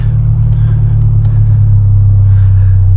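Subaru BRZ with a custom stage 2 EL header running E85, warmed up and idling with a loud, steady low rumble that holds constant throughout.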